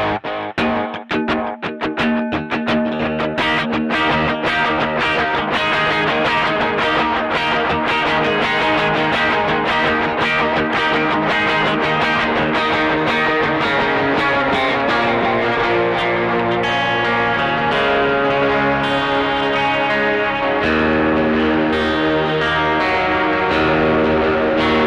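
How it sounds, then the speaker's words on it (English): An electric guitar runs through a TC Electronic Plethora X3 pedal set to a rhythmic delay, playing loud, sustained distorted chords and notes whose repeats echo in a pulsing pattern, unbroken for the whole stretch. "So this basically controls the amount of delay in the mix."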